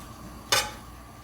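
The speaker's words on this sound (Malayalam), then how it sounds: "അപ്പോൾ ഇനി നമുക്കിത് ഫ്രൈ ചെയ്തെടുക്കുന്ന എങ്ങനെയാണെന്ന് നോക്കാം. ടിക്കി ഉണ്ടാക്കാനായിട്ട് ഞാനൊരു പാൻ അടുപ്പിൽ വെച്ചിട്ടുണ്ട്. പാൻ അടുപ്പിൽ വെച്ച് ചൂടാക്കണം. എന്നിട്ട് അതിലേക്ക് നമുക്ക് കുറച്ച് എണ്ണ ഒഴിച്ചു കൊടുക്കാം." Vegetable oil poured into a heated pan on the stove for shallow frying aloo tikki, a single brief splashing hiss that fades quickly against a quiet kitchen background.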